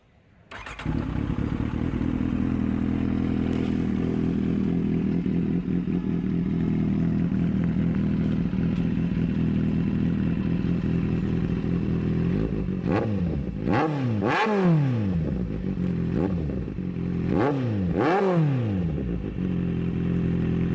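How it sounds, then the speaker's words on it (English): Kawasaki Z800 fitted with an SC Project CRT exhaust starts up, settles into a loud steady idle, then snaps through several sharp revs in quick succession, close by. "So I'm now going to do a quick rev about on my bike."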